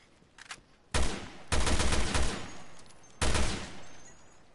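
Gunfire in a video game: several loud bursts of rapid shots, the first short and quiet, then three heavier volleys with brief gaps, with no talk over them.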